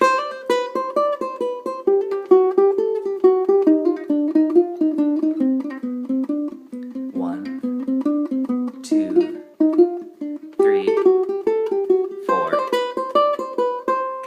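A solo ukulele plays a quick minor-key gypsy jazz lick, bright plucked notes in a steady running rhythm, clear and close with no voices.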